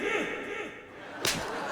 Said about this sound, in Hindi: थप्पड़ मार, थप्पड़ मार,